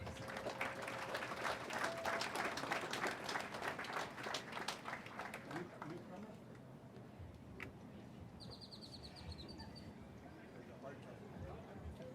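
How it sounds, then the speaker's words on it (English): A crowd at a high school athletic awards event claps in a dense burst of applause lasting about six seconds, then it fades into quieter room noise with a few scattered claps and a faint chirping sound. "So one more time, I'd like you guys to give these guys a big round of applause."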